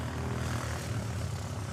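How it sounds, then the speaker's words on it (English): Boeing 747 jet departing the Reef runway at Honolulu airport, a steady, continuous engine roar at moderate distance with no voices. "I think that 747 is going to come down here and leave off the Reef runway."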